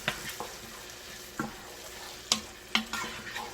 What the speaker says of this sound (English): Stir that in real good and let that cook for a good 3 to 4 minutes